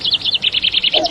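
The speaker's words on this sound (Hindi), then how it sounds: "चिड़िया बोली चू चू चू चू चू चू चू चू चू" Bright, quick bird chirps in a steady repeated run of about a dozen notes, close and clear, set within a children's Islamic lullaby and ending as a lower tone comes in.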